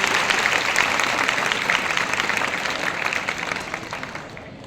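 Audience at a school award ceremony applauds students of an inter college, a dense, steady wash of clapping lasting several seconds that tapers slightly toward the end.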